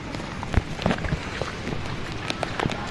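A fast stream swollen by heavy rain in Lonavala rushes in a dense, steady hiss, with scattered splashy bursts close by and no voices.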